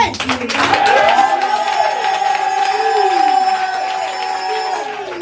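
A church congregation at a chapel conference erupts in loud applause, cheering and whoops, sustained clapping with voices shouting over it, while a speaker's voice rises above the crowd.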